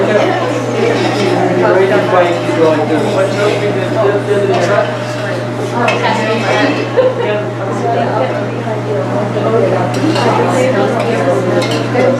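Stirring and clinking of a utensil against a pot during a sattvik cooking class kitchen session, steady scraping and clatter under continuous background talk and a low constant hum.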